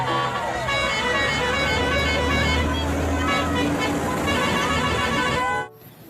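Toy school bus playing horn toots and a tinny melody, loud and continuous for about five and a half seconds before cutting off abruptly, with faint babble of voices behind it.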